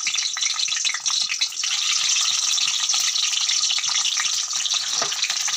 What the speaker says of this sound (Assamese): তেলটো গৰম হৈ গৈছে ডিমকেইটা এতিয়া মই ধুনীয়াকৈ ফ্ৰাই কৰি লওঁ